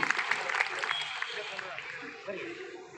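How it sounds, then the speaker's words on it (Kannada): Audience applause at a soldiers' gathering in Teradal, Bagalkot district: a dense burst of clapping that is loudest at the start and then thins out, with voices murmuring underneath toward the end. "ಚಪ್ಪಾಳೆ ತಟ್ಟುವುದರ ಮೂಲಕ ಅವರಿಗೆ ಕೃತಜ್ಞತೆಗಳನ್ನು ತಿಳಿಸಬೇಕಂತೇಳಿ ನಾನು ವಿನಂತಿಯನ್ನು ಮಾಡ್ಕೊಳ್ತೀನಿ"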